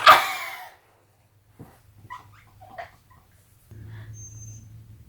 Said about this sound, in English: Oh, our dog's whining.